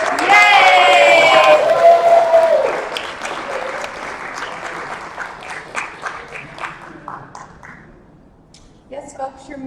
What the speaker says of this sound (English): if we could just clap a little bit and make it sound like